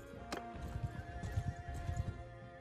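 A steppe warhorse in Bannerlord neighs sharply near the start, followed by steady clip-clop hoofbeats on the ground, moderately loud and alone without talk.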